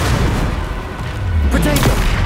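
Explosive spell blasts in the Hogwarts Legacy video game, a dense continuous roar of booms and rumbling impacts, loud and close, with a faint voice briefly underneath.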